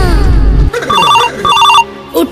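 A telephone bell rings in two bursts of rapid trilling, loud and close, after a low rumble at the start.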